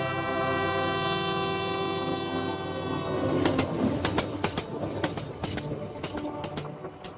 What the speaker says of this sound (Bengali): একদিন দ্বিজেনবাবু ট্রেনে উঠে বসলেন।